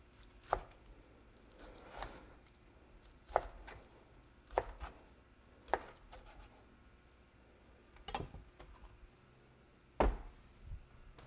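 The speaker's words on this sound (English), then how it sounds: "Just kind of cut up this ham in small pieces and throw it right in." Knife chopping ham into small pieces on a cutting board for pea soup, a series of sharp, irregularly spaced chops close by with quiet gaps between.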